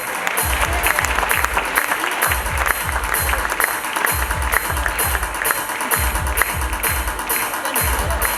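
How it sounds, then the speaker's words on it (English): An audience at a pre-primary school annual day gives a round of applause, loud dense clapping from a large crowd with rhythmic beats sounding underneath, continuous from start to finish. "Round applause to her parents too"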